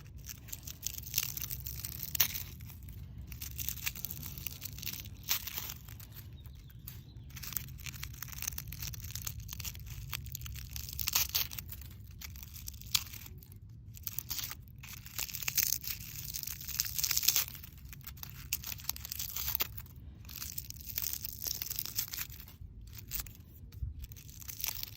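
Dead leaves being pulled and torn from a Sempervivum succulent, a series of close, dry crinkling and tearing crackles in irregular bursts over a quiet background.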